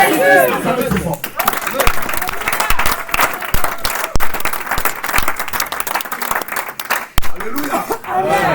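A church congregation applauds and cheers loudly and continuously, with voices shouting over the dense clapping and a preacher's voice cutting through now and then.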